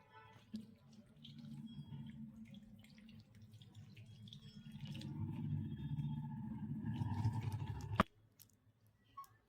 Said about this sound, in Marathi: एक 2 ते 3 वेळा हे धुवून घ्यायचं पाण्याने मासा स्वच्छ.